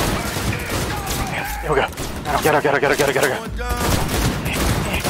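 Cyberpunk gunfire in rapid bursts, loud and close, with a dense volley in the middle and shouting voices over the shots.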